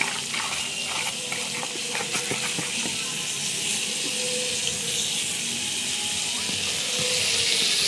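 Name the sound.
eggplant pieces frying in hot oil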